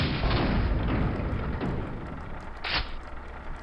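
Gunfire in the video game Quake followed by a falling object, a series of heavy booming shots and thuds over a low rumble, with a sharp burst near the end.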